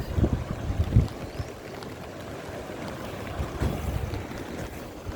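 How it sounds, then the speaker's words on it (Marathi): A swollen village river in flood rushes past in a steady, broad roar of turbulent water, with wind buffeting the microphone and a few louder surges near the start. "पाहू शकता आपल्या नदीला पण खूप पाणी आलं आहे."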